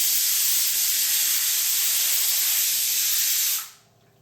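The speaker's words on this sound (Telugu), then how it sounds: "ఇప్పుడు 3, 4 విజిల్స్ రానివ్వాలి" A pressure cooker vents steam while amaranth-leaf dal cooks, giving a loud, continuous hiss with a high whistling tone that runs steadily and then cuts off sharply near the end.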